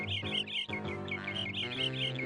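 Birds chirp in the Mickey Saves the Day video game, bright repeated tweets over a steady soft musical backdrop, moderately loud and continuous for a couple of seconds.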